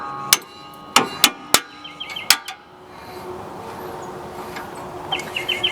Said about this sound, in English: I use a brass hammer because it's like a dead blow.